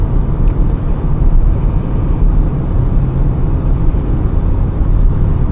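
A car cruises at speed on a highway. Steady, loud road and wind rumble is heard from inside the cabin, with no one talking.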